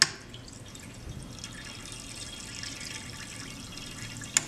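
A fuel injector energized on a bench sprays water into a pan, giving a steady, soft hiss of spray and splashing with light dripping, fairly close and continuous, with a brief click at each end.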